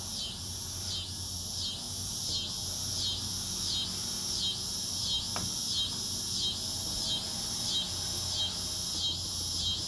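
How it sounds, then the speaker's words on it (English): A steady, pulsing insect drone of cicadas, rising and falling in regular waves over a quiet outdoor background, continuous throughout. "you'll also hear a few cicadas as the temperature's cooling down"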